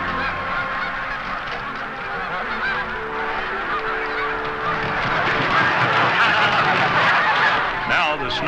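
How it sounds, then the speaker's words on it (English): Canada geese honk repeatedly as a flock flies in to feed over a baited area, a dense overlapping chorus of calls that builds in loudness, with a voice speaking over it. "There's the first Canada geese."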